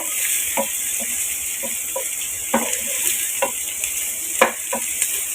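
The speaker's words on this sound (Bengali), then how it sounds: "আমি এখন এগুলোকে একটু পিঙ্কিশ কালার আসা পর্যন্ত একটু ভাজতে থাকবো" Chopped ingredients and green chillies fry in a pan for a dried fish dish, with a steady hiss of sizzling oil under repeated light scrapes and taps of a stirring spoon.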